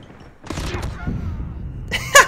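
Short bursts of PPSh submachine gun fire in a first-person shooter rattle out close and loud, with a louder burst near the end, mixed with low game noise.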